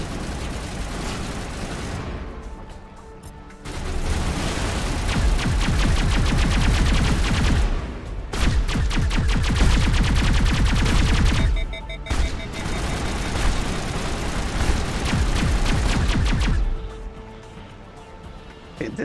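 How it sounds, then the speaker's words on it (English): Gas rifle fire from the video game Mass Effect comes in dense, rapid bursts of loud, close shots. The bursts are broken by a few short gaps, and game noise stays underneath throughout. "this gas rifle is pretty fun"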